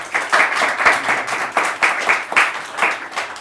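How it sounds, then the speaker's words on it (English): A live audience claps in loud, close bursts that swell and dip in a pulsing rhythm, with a few sharp hand slaps heard individually. "Please a big round of applause for that"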